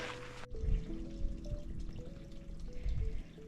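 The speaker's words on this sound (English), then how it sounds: "A little brook here that goes underground." A small brook flows on a mountain trail and disappears underground, giving a steady, moderately close trickle and burble with soft gurgling swells and no voices.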